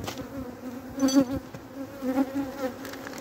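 Honeybees hum in a steady, close drone from an opened hive whose queen has not been laying, with the buzz swelling and fading as the colony is inspected.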